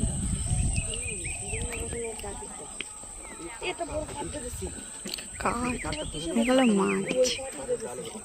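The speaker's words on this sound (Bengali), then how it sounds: "জঙ্গলের মধ্যে সকালবেলা কত পাখি" Morning birdsong in the Sundarbans forest: several birds whistle and trill at varying distances over a steady insect drone, growing livelier toward the end.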